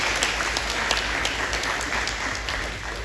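A room full of people clapping at a community meeting, a steady crackling patter of many hands at fairly constant level, close and continuous with almost no speech over it.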